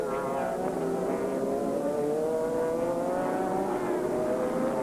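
A BMW M3 E46 GT race car engine in American Le Mans Series racing at Texas, a loud, sustained tonal roar rising slowly in pitch as it accelerates, close and steady, no talk.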